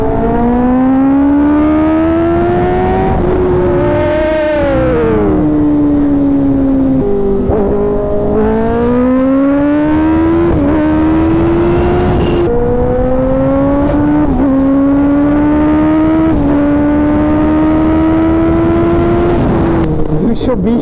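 A Kawasaki ZX10R 1000cc motorcycle accelerates hard on a highway, its loud, close engine whine climbing in pitch again and again with short drops at each gear change.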